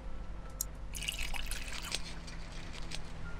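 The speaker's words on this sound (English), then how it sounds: "Wait, I actually wonder if I'm gonna pour water into this." Water pours and trickles into a jar in the video game Holstin, with soft dripping and splashing over a steady low background hum.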